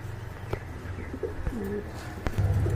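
Soft, low pigeon coos rise a few times over a steady background murmur at a pigeon sale, with faint bird chirps scattered through.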